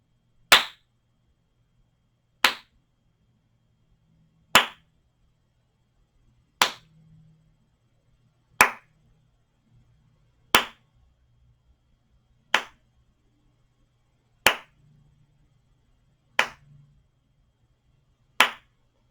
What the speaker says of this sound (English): I'm going to do that soft clap of 10 seconds.